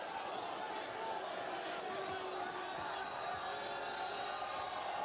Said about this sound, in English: the crowd is exhorting their feelings about Wilcox going to the free throw line